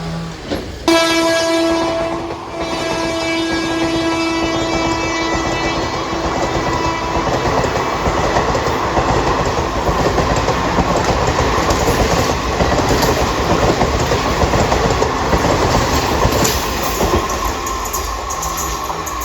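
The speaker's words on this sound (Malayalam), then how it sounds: "മംഗലാപുരം സെൻട്രൽ നിന്ന് കോയമ്പത്തൂർ ജംഗ്ഷനിലേക്ക് ഡെയിലി സർവീസ് നടത്തുന്ന എക്സ്പ്രസ് ആണ് ഇപ്പോൾ അങ്ങോട്ട് പോയത്." Mangalore Central to Coimbatore Junction daily express hauled by a WP1 locomotive passes close by, a long loud horn blast opening into a steady roar and rolling wheel clatter that fills the scene throughout.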